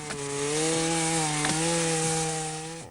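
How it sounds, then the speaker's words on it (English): Chainsaw cutting freshly felled acacia timber into lengths for charcoal burning, a steady high-revving engine drone with slight pitch dips as the blade bites, close and loud throughout with no talk. "They're slicing the recently living timber into suitable lengths for the slow burning process which makes Africa's universal domestic fuel."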